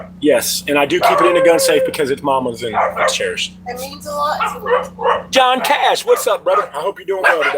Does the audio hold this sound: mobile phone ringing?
no